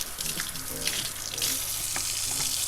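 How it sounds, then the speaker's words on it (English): Hands washed under a running kitchen tap, a steady hissing water stream broken by splashes and changes in flow as the hands move, close and fairly quiet. "I'm going to go ahead and wash my hands really quick."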